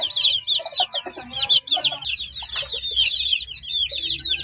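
A mother hen with her newly hatched chicks: soft, repeated clucks from the hen over a steady stream of high, rapid chick peeps, close and continuous, with an occasional brief flutter.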